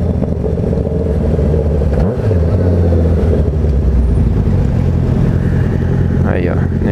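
A Yamaha MT-07 motorcycle arriving, its engine rising and growing louder over steady nearby engine drone and road noise, with a brief rising whine near the end.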